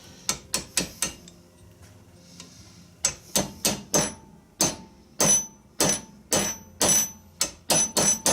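Light hammer taps knocking a part loose from an animatronic during restoration, sharp metallic strikes in quick bursts of four, then a steady series of about ten evenly spaced taps, close and distinct with no talking.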